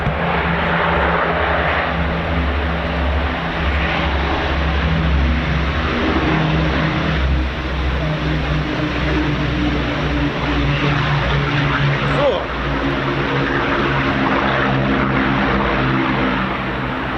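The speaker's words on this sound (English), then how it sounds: "There you go, the Lancaster bomber." Avro Lancaster bomber at an air show, its four propeller engines droning in a steady, loud, throbbing hum as it flies past, swelling and fading slightly over seventeen seconds.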